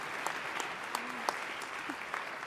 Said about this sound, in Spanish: pues un gran aplauso para los miembros del panel